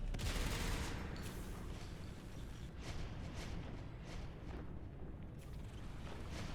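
Shotgun fire in the Natural Selection 2 video game, a quiet continuous barrage of overlapping gunshots and booms with a few sharper blasts standing out, no voices over it.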